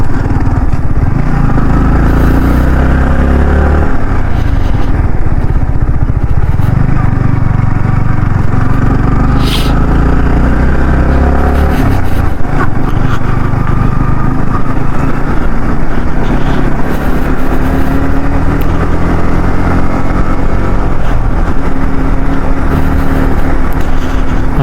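Loud, close motorcycle engine drone while riding, with gear changes marked by brief dips and thuds. The engine noise stays continuous throughout, with no talk.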